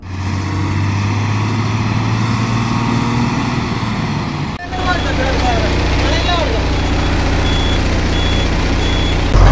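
A lorry engine runs loudly and steadily, then a series of evenly spaced high electronic reversing beeps begins partway through and repeats over the engine rumble.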